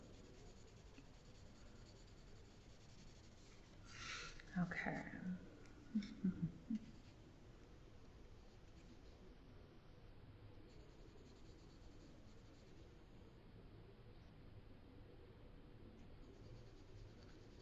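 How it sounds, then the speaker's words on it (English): A graphite pencil shades on paper with the side of the lead. Soft, close scratchy strokes come in a short burst of rapid rubbing, then go quiet, and a voice briefly speaks. "I'm using more of the side of my pencil."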